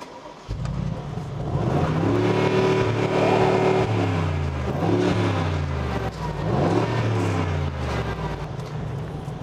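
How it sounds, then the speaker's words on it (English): A deep V8 engine of a Mercedes-AMG G63 SUV roaring through side exhausts, revving up to a 4,500 rpm soft limiter and settling back several times, loud and close with a throaty burble between blips. "those side exhausts. Let's listen to them roar."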